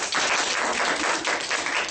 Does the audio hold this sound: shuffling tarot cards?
no